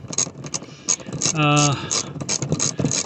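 A ratchet with a 3/8 socket works a seat bolt loose on a 2006 Mercedes-Benz SLK 350, giving rapid close clicking and metallic ratcheting with a brief tonal whir midway.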